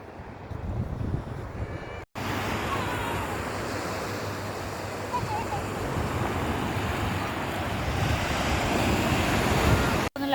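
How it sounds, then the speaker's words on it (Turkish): Calm sea waves wash in at Mackenzie Beach as a steady, loud rush of surf mixed with wind buffeting the microphone, with two brief cuts. "Burada dalgalar daha sakin."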